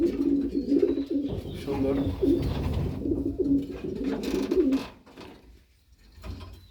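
Pigeons cooing steadily inside a loft, a low rolling coo repeated throughout with a few faint chirps, while someone speaks briefly over them near the end.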